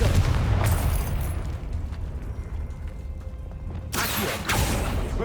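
Blasting Confringo spell from Hogwarts Legacy erupting in a booming explosion, a loud burst at the start that rumbles down, then a second sharp blast near the end.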